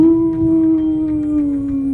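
Dogs howl in a long, sustained, wavering wail that sits loud and close, holding steady for the full length with a low rumble underneath.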